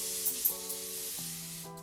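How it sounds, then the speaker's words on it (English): A facial setting mist sprayed onto the face, a soft hiss lasting almost two seconds, heard over a steady tonal hum in the background. "Smells like I just sprayed water all over my face."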